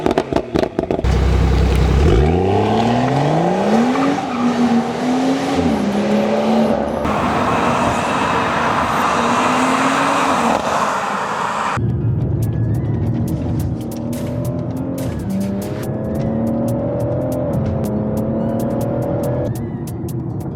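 A stage 1 tuned Volkswagen Golf GTI TCR engine roars through repeated acceleration runs, rising and shifting in pitch with crackles on the overrun, loud and close throughout with no talking.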